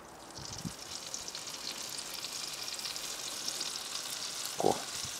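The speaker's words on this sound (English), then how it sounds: "we are actually going to add the last of this little bit of garlic in the bottom" Garlic frying in pork and steak pan juices: a steady, quiet sizzling hiss throughout, with a couple of brief low knocks or scrapes, no speech.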